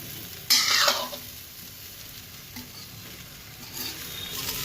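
Steamed doodhi muthiya dhokla pieces warm in a hot tempering, giving a soft continuous sizzle with a louder scrape of stirring near the start and another toward the end, close and fairly quiet.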